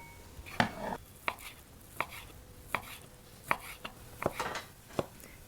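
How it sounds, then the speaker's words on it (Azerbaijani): A knife chops cooked chicken fillet on a cutting board in about a dozen sharp, fairly regular strikes, close up with no talking. "Bişirdiyimiz fileni də doğrayacağıq"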